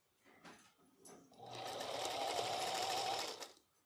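A sewing machine hums and whirs in a steady run for a couple of seconds after a few short starts, close and moderately loud.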